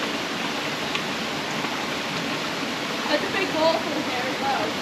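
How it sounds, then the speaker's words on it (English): A big waterfall in Serra da Estrela, Portugal, makes a steady broadband rushing roar that holds constant throughout, with faint voices beneath it. "There's a big waterfall here as well."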